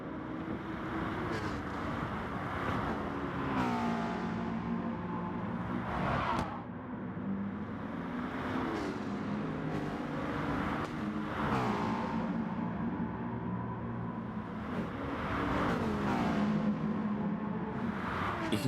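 Racing car engines in Gran Turismo Sport roar steadily at Nordschleife during a Manufacturer Series race, with repeated rising and falling revs as gears shift, loud and continuous with no talk.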